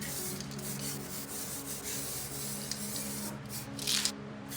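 A steady, hissing aerosol spray paint can sprays continuously up close in an engine bay, with a brief louder burst near the end and no talking.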